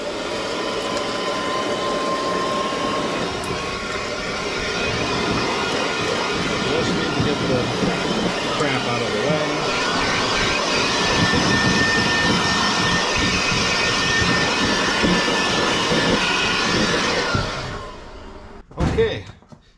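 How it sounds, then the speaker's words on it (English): A Milwaukee cordless leaf blower on low speed blows out the battery area of a 2007 Club Car DS gas golf cart, a loud steady rushing whoosh that holds for about seventeen seconds before cutting off, followed by a brief thump. "Milwaukee blower to the rescue"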